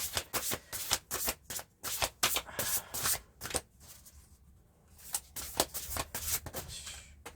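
Large oracle cards being shuffled by hand in repeated riffling bursts, a brief pause midway, then more shuffling, close and fairly quiet.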